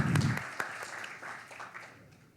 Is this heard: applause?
yes